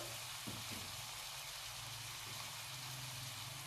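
Carrots, capsicum and other vegetables in a frying pan, a steady close sizzle with a few soft stirring knocks, no speech.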